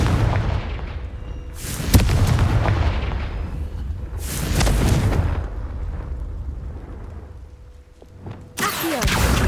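Confringo blasting spell explosions from Hogwarts Legacy: three loud, booming bursts spaced a few seconds apart, each with a sharp crack and a rolling low rumble that decays slowly, with no talking.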